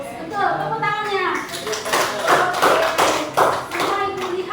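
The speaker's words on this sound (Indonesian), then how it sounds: "Betul, tepuk tangannya." Children in a classroom clap in quick, patterned rhythmic bursts, close and lively, while young voices chatter and call out over the clapping.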